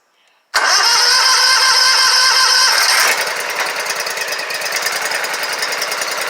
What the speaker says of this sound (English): I'm going to pop the plugs in real quick and see if she'll fire up